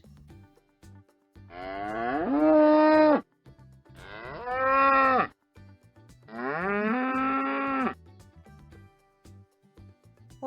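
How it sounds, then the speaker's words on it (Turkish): Three deep, drawn-out bellows from a bull, each lasting a second or more, spaced evenly with short quiet gaps between them. "İşte boğalar böyle ses çıkartır."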